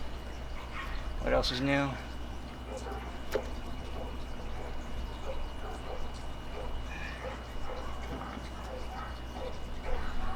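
Neighborhood dogs bark in the background behind a motorcycle carburetor repair, with a short burst of yips and barks near the start and fainter barking later over steady background noise, as someone speaks briefly.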